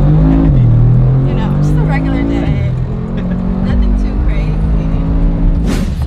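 Loud, close engine roar inside a car as it accelerates hard, the pitch climbing and shifting through gears, with voices talking over it.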